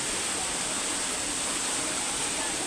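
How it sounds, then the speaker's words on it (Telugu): Talakona waterfall pours in a loud, steady, broadband rush of falling water that fills the short stretch without a break. "Talakona water falls."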